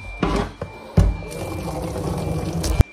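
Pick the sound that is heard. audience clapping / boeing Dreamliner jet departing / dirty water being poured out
dirty water being poured out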